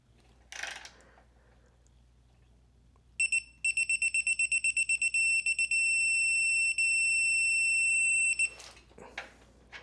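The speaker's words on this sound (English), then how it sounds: "it'll light up red and beep at you as well to indicate that you've reached your torque specification" A rapid series of high-pitched electronic beeps from a Quinn 3/8-inch digital torque wrench reaching its set torque, ending in a long steady tone, with faint handling noise before and after.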